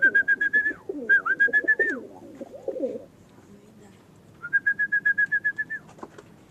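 Racing pigeons near their loft, repeated pulsing coos and whistling bursts up close, in two clear runs separated by quieter bird sounds and faint flutter.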